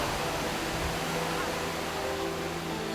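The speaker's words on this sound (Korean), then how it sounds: "지상 최대의 폭포인 이구아수" Iguazu Falls, a huge waterfall, roars as a steady broadband rush of falling water, loud and unbroken throughout.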